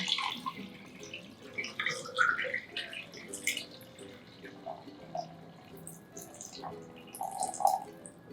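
Water pours into a pitcher of homemade lemonade, giving a splashing, gurgling stream in uneven bursts, close and moderately loud.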